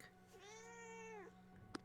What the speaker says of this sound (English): Now I hear you, cat.